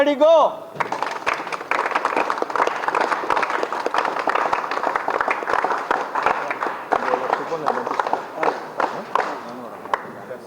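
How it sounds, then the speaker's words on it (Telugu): Audience applause at the inauguration of a newly built minority residential school, a dense, sustained burst of many hands clapping at close range after a voice speaks over a loudspeaker, lasting several seconds before thinning out. "క్లాప్"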